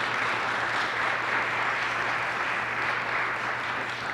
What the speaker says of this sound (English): I would like you to give a round of applause for Senator Teresa Ruiz.